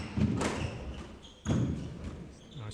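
Squash ball struck during a women's professional squash final at the Northland Open, two hollow thuds about a second apart echoing in the court, with faint crowd and room noise between.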